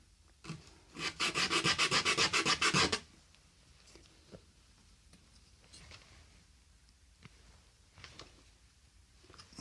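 Sandpaper rubs briskly back and forth on a wooden plunge router plate in a quick, steady burst of about two seconds, followed by a few faint taps and handling noises in a quiet room.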